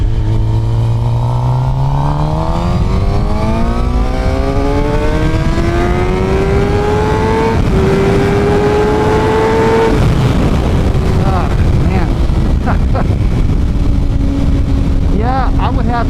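Suzuki GSX-R 750 sport bike fitted with a Yoshimura R77 full exhaust and tune, revving up through the gears, its engine note climbing in pitch, loud and continuous, close by.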